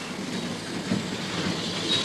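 A 70-year-old, 40-ton locomotive runs with a steady, continuous rail rumble and rolling wheel noise, faint squeal-like tones riding on top, no voices.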